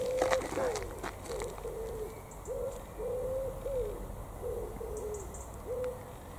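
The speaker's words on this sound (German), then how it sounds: "so die Vögel zwitschern" Birds calling near a small playground in Cologne, mostly soft, repeated cooing notes of a pigeon or dove at moderate distance in a steady rhythm, with a faint background murmur.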